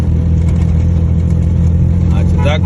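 A car engine runs steadily at a low, droning pitch with a brief rising rev near the end, heard from inside the vehicle during a driving lesson.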